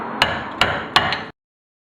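A big hammer strikes a jack handle to knock a stuck rear brake rotor loose on a 240sx: three loud, evenly spaced metallic whacks up close, with ringing between hits before sudden silence.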